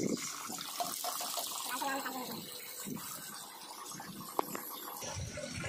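Water splashes and trickles steadily onto turmeric plants during a midday garden watering, a continuous wet pattering with a brief sharp clink near the end.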